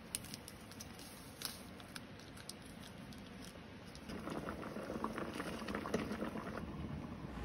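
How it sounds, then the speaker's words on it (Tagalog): Water coming to a boil in an electric cooker before noodles go in, a steady low bubbling and patter that thickens and grows louder partway through, heard alone at close range. "Nagpakulo na ako ng tubig bago ko ilagay yung noodles."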